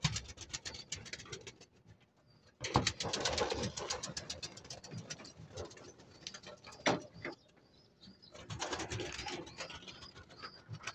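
Pigeons coo and shuffle in a loft in Mindoro while being fed in the morning, soft bursts of cooing and fluttery scratching that come and go in several clusters, fairly quiet and close.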